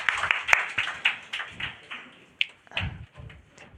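Students at a Class 12 farewell ceremony clap in a loose, uneven burst of sharp hand claps, fairly near, thinning out with scattered later claps and a brief voice.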